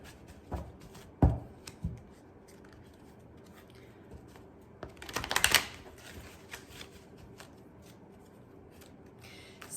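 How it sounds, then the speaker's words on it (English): Tarot cards being shuffled by hand, a few sharp riffles and taps early on, then a longer burst of quick ruffling in the middle, close and fairly crisp against a quiet room. "I'm going to shuffle some cards"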